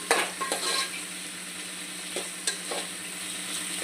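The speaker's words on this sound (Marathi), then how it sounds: "भाजीला आपल्याला जरा 5 मिनिटांसाठी व्यवस्थित असं तेलावरती परतवायचं।" Mixed vegetables stir-fry in oil in a pan, with a steady sizzle and a few sharp clinks and scrapes of a spatula against the metal, close and loud, with no talking.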